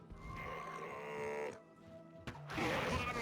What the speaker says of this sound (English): These goats are awful. I hate the sounds they make now.